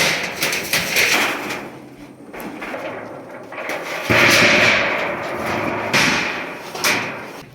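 Irregular wooden knocks and thuds, like hammering on boards, ring out at close range with a few louder strikes among clattering background noise.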